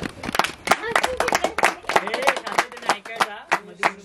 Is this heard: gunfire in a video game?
no